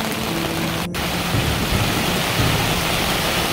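Heavy rain pours down outside a backpacking tent in a constant, loud, dense hiss of drops drumming on the fabric, with no talking.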